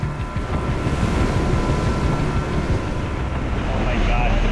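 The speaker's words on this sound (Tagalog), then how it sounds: "Kalahating oras pa lang ang aming paglalayag nang lalo pang lumakas ang hangin" A boat out at sea pushes through rough water as strong wind roars steadily across the microphone, with broadband surf and wave rush beneath, loud and continuous throughout.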